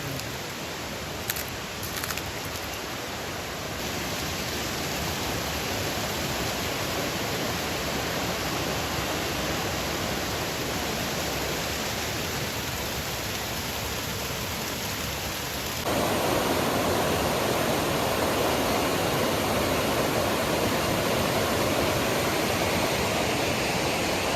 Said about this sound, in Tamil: இது ஒரு அருவி.